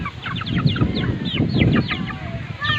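Several farm chickens cluck and chirp in quick, busy bursts close by as they wait to be fed, with a steady low rumble underneath throughout.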